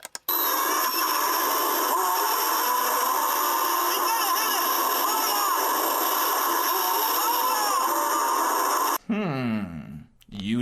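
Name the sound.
shark roar from the film Jaws: The Revenge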